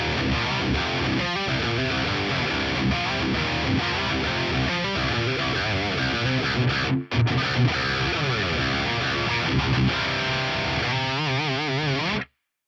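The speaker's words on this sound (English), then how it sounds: "This is the core amp tone with my PRS in drop C." Heavily distorted high-gain electric guitar riffing from a PRS tuned to drop C through an Axe-Fx III USA Lead amp model, dense and loud throughout with a brief cut near the middle before ringing out.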